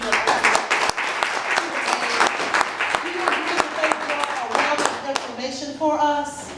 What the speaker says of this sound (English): let's applaud for our panelists